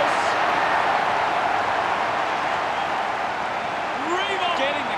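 Stadium crowd noise from the AFL Evo 2 football video game, a steady broad roar of cheering spectators running throughout, with a commentator's voice talking over it.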